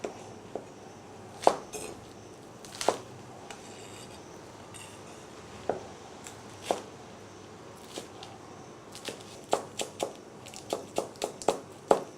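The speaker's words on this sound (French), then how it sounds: "je coupe aussi des oignons verts, toujours émincés" A knife chopping green onions on a cutting board, sharp, irregular knocks spaced by pauses early on, then quicker clusters of taps near the end, close and fairly quiet.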